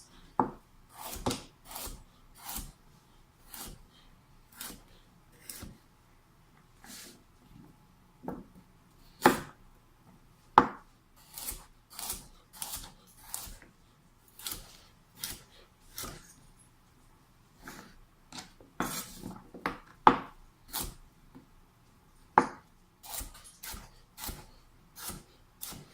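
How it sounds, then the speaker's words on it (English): A knife slices through large carrots on a cutting board, a long series of sharp, separate chops with irregular pauses between them, close and fairly quiet with no one talking. "I just take them and I slice them into what looks like almost baby carrot sized"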